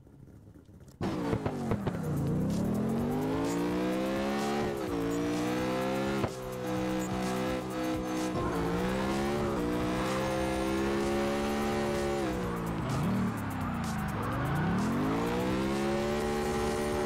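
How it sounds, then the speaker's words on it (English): A drifting car in CarX Drift Racing Online roars continuously at high revs, its engine pitch sweeping up and down through repeated slides with steady tire squeal, loud and close with no talking. "This car feels kind of weird, but it drifts."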